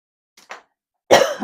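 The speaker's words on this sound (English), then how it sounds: "get my water first so I don't keep coughing in your ears." A couple of faint throat sounds, then a single loud, close cough after a pause.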